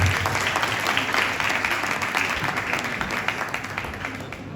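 Audience applause for a professor at a university department gathering, a dense wash of clapping that starts strong and gradually tapers off over a few seconds.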